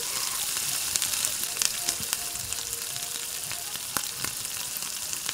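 Dried red chillies, bay leaves, panch phoron and chopped ginger fry in hot oil for a vegetable curry, giving a steady, bright sizzle with scattered pops and crackles, close and continuous with no talking.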